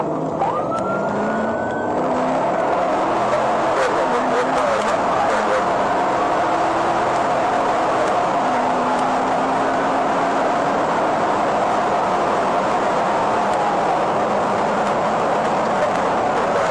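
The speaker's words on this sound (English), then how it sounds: "The car continued to accelerate, reaching speeds of 100 miles per hour as the driver attempted to evade the police." A car accelerating at high speed during a police chase, a steady loud roar of engine and road rush with rising and falling whining tones, with a siren wail mixed in throughout.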